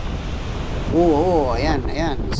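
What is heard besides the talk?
ocean waves crashing on rocky shore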